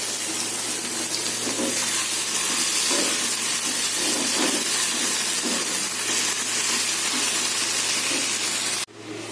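Bombay duck fish dry-frying in a pan gives a steady, close, dense sizzle that holds evenly for several seconds before cutting off abruptly near the end.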